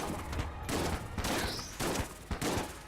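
Bursts of rapid cartoonish gunfire in the bullet-hell game Enter The Gungeon come in clustered volleys separated by brief gaps, fairly loud and busy with no talking over them.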